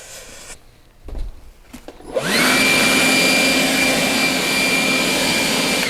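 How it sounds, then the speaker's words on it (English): After some brief handling knocks and rustles, a leaf blower starts up and runs with a loud, steady whining roar close by. "Let me get the leaf blower once more."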